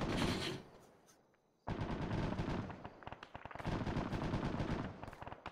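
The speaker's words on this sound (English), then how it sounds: "Yes, he is shooting at them." Video game gunfire in a squad battle: rapid bursts of automatic weapon shots, dense and loud, with a brief lull before the shooting resumes in quick rattling volleys.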